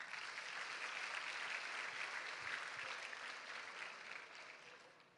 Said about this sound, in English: let us give our commencement speaker a warm round of applause